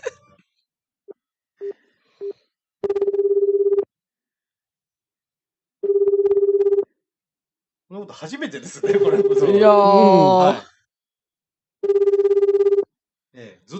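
A telephone call on a live broadcast: short test beeps, then a steady electronic ring tone repeats in timed bursts with gaps between them, while voices talk over one ring.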